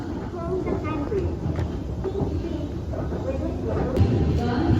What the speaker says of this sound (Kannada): ಫೈನಲಿ ನಮ್ಮ ಟ್ರೈನ್ ಇವಾಗ ಬಂತು